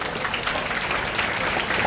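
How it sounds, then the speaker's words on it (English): A banquet audience breaks into sustained applause for a guest speaker at an annual banquet. The clapping is dense and loud and continues with no break through the short stretch. "huge applause, MashaAllah, for him"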